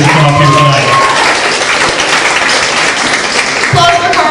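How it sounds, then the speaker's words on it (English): Audience applause for the contestants at a local talent show, a loud continuous wash of clapping filling the room from start to finish, with brief voices and music-like tones near the beginning and end. "Let's just have one more big round of applause for all of them"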